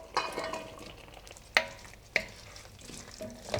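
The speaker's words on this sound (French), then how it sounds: "Je vais laisser mijoter 5 minutes." Crushed tomatoes simmering in a pan, a low bubbling sizzle with occasional sharp utensil taps and scrapes as they are stirred, close and fairly quiet.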